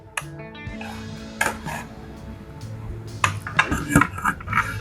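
Soya chunk pulao is served onto a plate, heard as sharp clinks and scrapes of a spoon against a pot and plate. The clatter is close and irregular, with quieter gaps between bursts and no talking.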